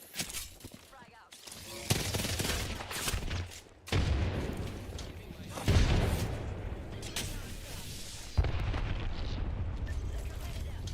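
A frag grenade goes off in a video game firefight. A few heavy blasts punch through steady rattling gunfire and crackling, loud and close throughout.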